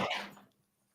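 A big dog gives a short bark or yelp, loud and close, fading quickly into quiet.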